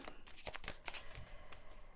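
Tarot cards shuffled by hand in a quick run of papery riffles and soft crinkling flicks, close and fairly quiet, with no talking.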